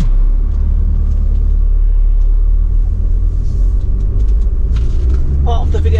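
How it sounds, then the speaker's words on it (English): A loud, low diesel engine of a Renault Master lowloader van idles with a constant heavy rumble close by, and a voice briefly comes in near the end. "let's get the engine started up. There we go."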